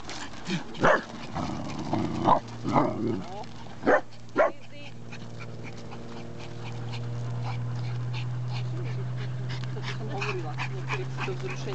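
Several excited dogs bark in bursts during the first few seconds, with yips and whimpers mixed in, then fade behind a steady low hum and a person talking.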